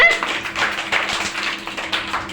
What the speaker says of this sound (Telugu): మీరు క్లాప్స్ కొట్టండి నాన్న